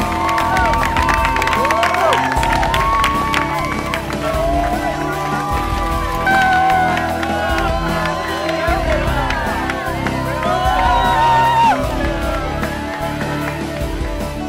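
A crowd cheers and whoops at a race finish line, with loud continuous shouting, clapping and excited voices close by, overlapping with people talking.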